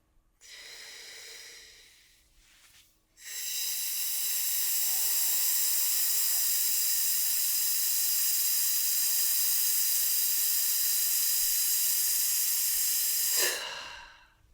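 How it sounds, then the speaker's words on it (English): A single long, steady breathy exhale during a singing breathing exercise, loud and close, holding evenly for about ten seconds before tapering off, after a shorter hissing breath at the start. "let's do one long exhale now"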